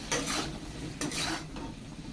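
Fried red spice paste (masala) being stirred in a pan, with two or three bursts of scraping and sizzling from the spoon over a low, steady frying hiss, heard close with no voices.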